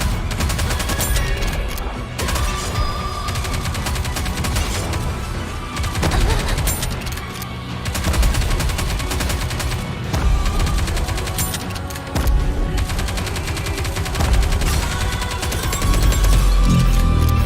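Gunfire in the video game Nikke, a loud, relentless stream of rapid shots and bursts with occasional heavier booms, continuing without pause throughout.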